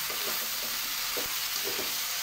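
Chicken feet adobo with bay leaf and pepper sizzles loudly in a pan while being stirred, giving a dense continuous hiss with soft rhythmic scraping strokes, no voices.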